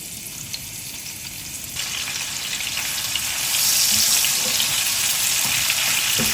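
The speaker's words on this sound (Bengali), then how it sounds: "কাটা চচ্চড়িটা একটু ঝাল হলে ভালো লাগে দিয়ে দিচ্ছি পেঁয়াজ" Onions dropped into hot oil in a frying pan for a spicy Bengali kata chorchori, a steady sizzle that swells louder partway through, with faint stirring and no talk.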